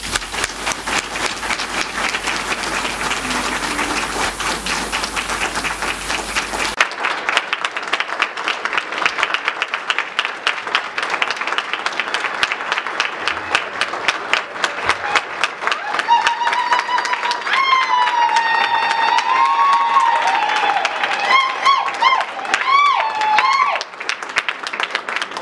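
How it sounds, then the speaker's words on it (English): An audience at a university inaugural lecture claps together, a dense field of individual hand claps running throughout, with crowd noise and a brief vocal ululation or cheer partway through. "Let us go together with a hand clap."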